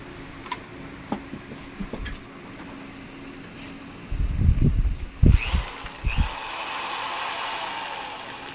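A power drill with a size 5 bit bores mounting holes for a Eurolink Eagle Eye camera, heard as several short, loud grinding bursts midway through after quiet ticking, then a steady hum.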